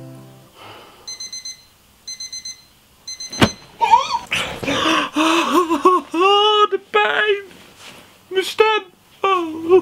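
Repeating electronic beeps ring out from a novelty phone-style gadget's alarm clock, starting as a few short bursts and then swelling into a loud warbling tone under lively talk.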